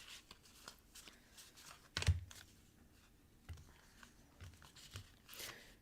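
A deck of cards is shuffled close by with soft riffling and flicking, a sharp snap partway through, then scattered quieter rustles and taps.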